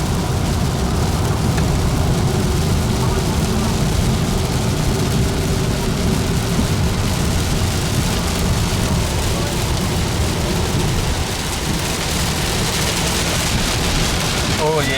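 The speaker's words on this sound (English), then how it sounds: "Okay, my first tropical rain of the trip." Heavy tropical rain pours steadily during a Christmas trip in Queensland, a dense, loud, continuous wash with low engine-like rumble underneath, unbroken across the whole stretch.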